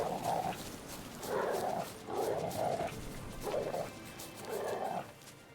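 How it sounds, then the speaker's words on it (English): A dog in a video game barks about five times in measured, evenly spaced bursts. The barks are close and loud against a steady background hum, with no talking. "Follow the dog."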